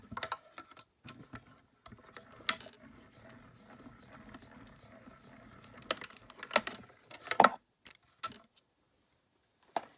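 A die-cutting machine is hand-cranked to feed a plate through, producing quiet ratcheting clicks and mechanical ticks with a few sharper knocks near the end, close and otherwise silent.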